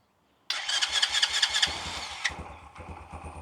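A Boom Vader 125 motorcycle engine, tried without the choke, cranks with a sharp electric starter whine for about two seconds, then briefly catches and sputters into a rough, uneven idle close by.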